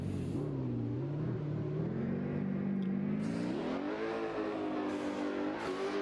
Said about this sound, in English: We have the BMW E36.